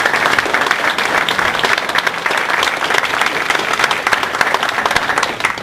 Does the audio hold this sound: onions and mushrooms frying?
no